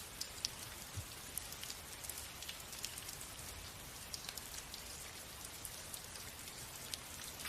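Steady rain patters on surfaces, a dense, soft, continuous hiss with scattered individual drops ticking, constant throughout and fairly quiet, with no voices.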